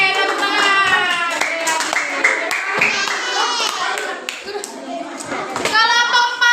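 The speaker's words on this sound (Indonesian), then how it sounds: "Oke, tepuk tangan." Schoolchildren in a classroom clapping together in a quick, sustained round of applause, near and loud, with children's voices calling out over it.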